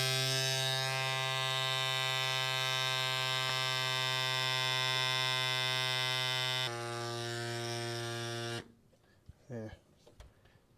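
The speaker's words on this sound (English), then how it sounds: "just pump it up, power it on" A small USB-C electric pump inflates the inner tube of a Honda Dream tire, giving a loud steady motor drone with strong harmonic hum that drops in pitch after several seconds and then cuts off, leaving faint handling noises.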